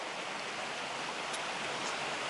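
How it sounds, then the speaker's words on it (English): A cascading waterfall in the grounds of Roche Abbey, a steady, dense rush of falling water that holds constant and fairly loud throughout, with no other sounds over it. "There's a cascading waterfall from up there"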